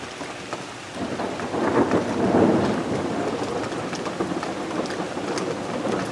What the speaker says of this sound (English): Hear the thunder? Whoa,